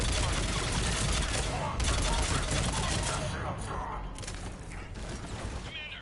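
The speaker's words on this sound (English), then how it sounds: "Commander, we're getting a lot of mortar fire." Mortar fire and gunfire in the video game Mass Effect 3, a dense continuous barrage of rapid shots and heavy blasts that stays loud before easing slightly, with voices talking over the combat.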